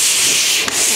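Pole scraping and knocking dried drywall mud off the edge of a skylight opening, giving a loud, continuous abrasive rubbing hiss with one brief dip, close up and without talk.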